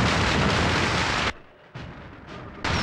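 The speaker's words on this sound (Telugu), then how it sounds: "ఇక్కడ రకరకాల టపాకాయలు బాంబులు పేలుతున్న చప్పుడు వింటున్నావా?" Firecrackers and bombs bursting near a riverside pavilion: dense, loud continuous explosive roar that drops briefly quiet, then resumes with further heavy blasts.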